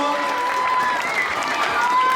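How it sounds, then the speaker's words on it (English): Children and a crowd clap together for the yellow team, a short burst of mixed applause and lively noise with a voice speaking over it. "Let's clap for yellow, everyone."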